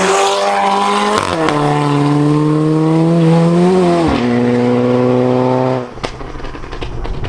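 Up close and loud, a tuned Alfa Romeo Giulietta Quadrifoglio Verde with a K04 turbo at 1.9 bar on a stock engine block accelerates through the gears, its engine note climbing and dropping at each shift, then cuts off sharply with crackles.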